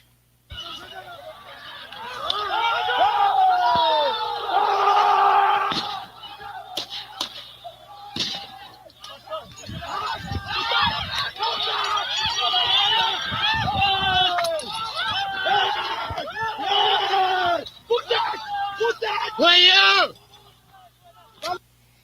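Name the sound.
crowd yelling war cries, residents chasing looters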